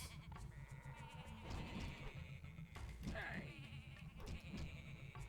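Sheep bleating inside a Tak 2: The Lost Data Files video game, a few short bleats over busy game music and effects, with someone talking throughout.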